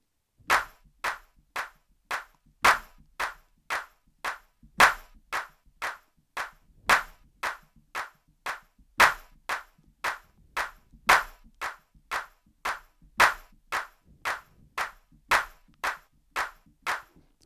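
Sharp hand claps keep a steady, even beat, with some claps clearly louder as accents in a repeating pattern, close and dry with no talking.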